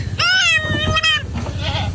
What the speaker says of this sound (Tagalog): Kambing mo lahat yan?